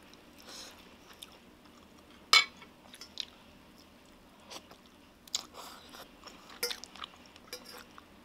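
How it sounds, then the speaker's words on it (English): Sporadic crunchy bites and soft chewing on Japanese fried chicken karaage eaten with curry, close to the mic, with scattered sharp crunch transients and quiet pauses between them. "this karaage batters are not like fried chicken, so it's not supposed to be that crunchy."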